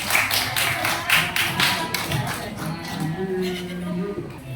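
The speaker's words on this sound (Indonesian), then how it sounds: "Oke, beri tepuk tangan untuk teman-teman" Classmates in a classroom break into applause, a dense patter of many hands clapping with pulsing bursts, fairly loud and close, with some voices murmuring underneath.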